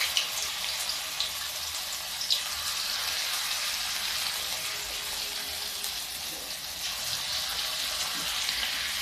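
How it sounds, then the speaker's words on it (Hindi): Maize pakoras sizzling steadily in hot oil, a continuous bright frying hiss with small pops throughout, close and fairly loud, no talking. "पकौड़ियाँ आप किसी भी आकार में टपका सकते हैं, हम तो गोल बना रहे हैं।"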